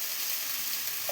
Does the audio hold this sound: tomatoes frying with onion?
yes